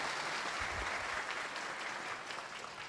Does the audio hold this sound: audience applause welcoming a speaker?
yes